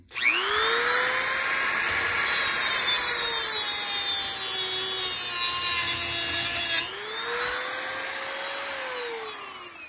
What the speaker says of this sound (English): I'm gonna cut it with this uh, Dremel tool